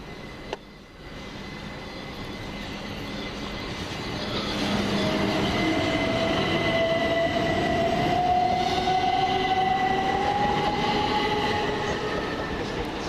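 A Class 377 train runs through East Croydon station with a steady rolling rumble that swells midway, a long rising wheel squeal over the top, no voices.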